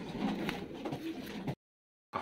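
Adult pigeons coo in a loft while water is being set out for them, a soft continuous murmur of several birds close by for about a second and a half before cutting to silence.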